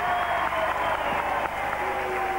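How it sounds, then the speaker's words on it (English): A packed audience applauds in Floral Hall, Southport, at a wrestling bout, producing dense, continuous clapping at steady loudness throughout. "I think everybody here in this packed hall, Floral Hall at Southport, really applauding me"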